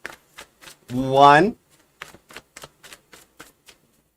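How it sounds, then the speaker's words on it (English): Tarot cards are shuffled with a rapid series of crisp, sharp clicks and riffles, close to the microphone, interrupted by one brief spoken word. "All right, 2 shuffles."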